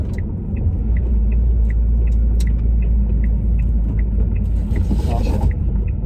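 A Ford Fiesta ST150 (MK6) rounds a roundabout, its engine a steady, close low rumble inside the cabin with light ticking clicks repeating throughout.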